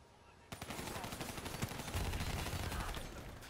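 Dense, rapid gunfire bursts in a Call of Duty Black Ops 3 firefight, erupting abruptly after a brief quiet moment and continuing as loud overlapping shots to the end.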